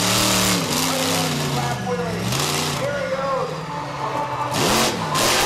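Pickup trucks race and slide around a slippery freestyle course in the Charlotte Motor Speedway infield, engines revving loudly with rising and falling pitch throughout, mixed with crowd noise and commentary over the top.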